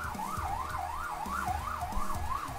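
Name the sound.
sirens of emergency vehicles outside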